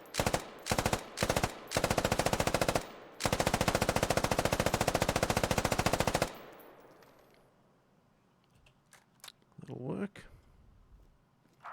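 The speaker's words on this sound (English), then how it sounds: "Automatic riflemen and machine gunners carry a machine gun like this to the field." Machine gun fires long automatic bursts, loud and close, several short bursts followed by a sustained stream of rapid shots that stops abruptly and leaves a faint echoing tail.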